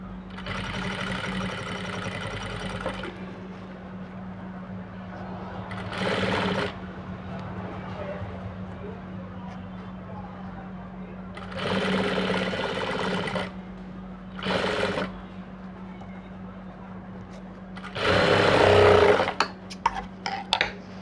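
Sewing machine running in several short bursts while stitching an aari net blouse, the motor whirring up for a second or two at a time over a steady low hum, fairly close.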